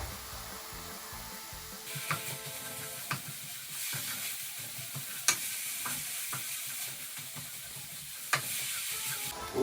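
Pork sizzles steadily in a hot pan with a constant, close frying hiss, punctuated by occasional scrapes and knocks of a utensil stirring the meat.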